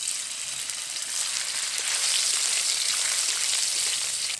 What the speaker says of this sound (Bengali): কড়াইতে দেব তেল। এখন আমি পনিরগুলো ভেজে নেব।